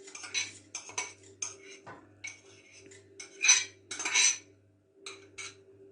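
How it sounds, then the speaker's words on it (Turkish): Uncooked rice for a rice pudding rattles into a metal pot in several short, uneven bursts of close, bright clinking and skittering, with brief pauses between pours and no voices. "İlk başta sütlacımız için pirincimizi koyuyoruz."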